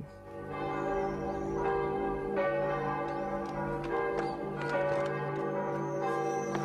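A village church bell rings in repeated, resonant strokes, each with a long ringing hum, several strikes overlapping steadily and clearly over about six seconds.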